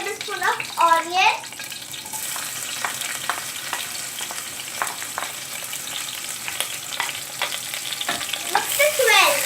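Onion frying in oil with cardamom and pandan leaves for ghee rice: a steady, close sizzle with scattered stirring clicks, and a short burst of speech near the start and again at the end.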